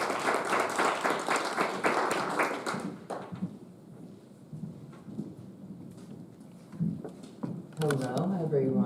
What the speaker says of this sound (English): a big round of applause for Shea.